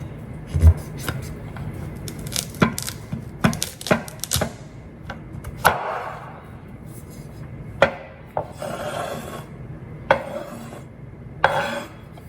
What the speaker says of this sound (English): Now we want to cut off both ends of it.